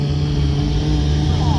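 Stunt motorbike engine at a bike show during a no-handed wheelie: a loud, steady droning engine tone holds close and constant throughout, with a crowd or announcer's voice likely mixed underneath.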